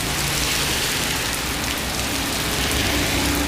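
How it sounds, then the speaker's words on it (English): Heavy, treacherous rain pours down in Bali, a dense and loud unbroken roar of drops that fills the whole clip evenly, with no voices. "So rather than being stuck in this treacherous rain"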